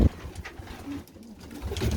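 Pigeons coo softly in a pigeon loft, low throaty murmurs repeating a few times close by, with rustling in the background.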